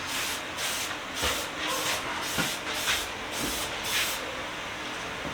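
A spray gun tip hisses in a loud, steady, rhythmic stream of pulses, with about ten regular bursts of spray sounding close and continuous, no voices.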